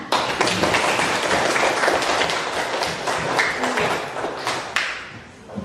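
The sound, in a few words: applause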